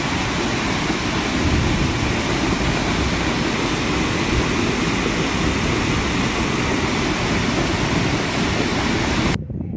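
Floodwater rushes through Petrópolis, a loud, dense and steady roar that drags stones and debris and continues without a break until it cuts off abruptly near the end.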